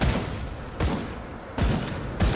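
Rapid gunfire in the action RPG Grim Dawn, heavy booming shots spaced roughly evenly, each one a hard blast that decays into a low rumble before the next, loud and close with no talking.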